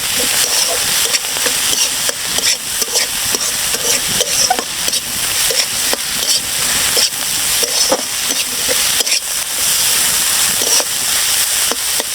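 Bottle gourd seeds frying in a pan with salt and turmeric, a steady loud sizzle broken by frequent scraping stirs, with no voices throughout.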